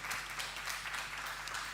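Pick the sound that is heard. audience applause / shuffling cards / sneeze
audience applause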